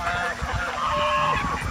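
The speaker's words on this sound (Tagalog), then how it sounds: "nagkakagulo yung gansa" Geese and ducks honk and squabble together in a farmyard pen near nesting hens, a dense, agitated chorus of overlapping nasal calls at close range throughout.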